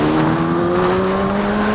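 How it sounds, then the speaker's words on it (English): Loud, continuous vehicle engine drone heard from a motorbike rider's position as a van tries to pass on a winter road, a steady tonal hum with slowly rising pitch and heavy wind-like rush throughout. "Oh, there's a van that is trying to pass me."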